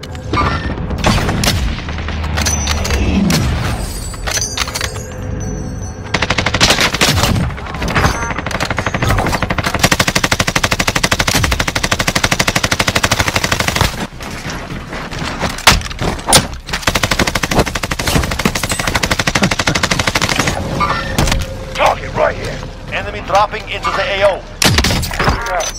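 Rapid automatic gunfire and booming shots from Call of Duty Warzone, a near-continuous loud barrage with a few brief gaps, mixed with game effects and occasional voice callouts.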